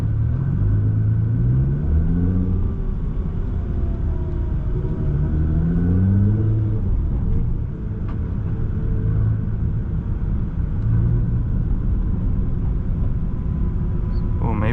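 Nissan GT-R engine driving at night in first gear, a close, steady rumble with several rising-then-falling revs as it pulls away, under occasional talk from the driver.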